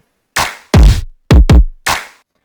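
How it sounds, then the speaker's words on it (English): Layered stomp kick drum sample hits five times in an uneven pattern, each a loud, close, booming thump with a sharp attack, alone with no talking. "and on this with like a stomp kick from the Shameless Kid"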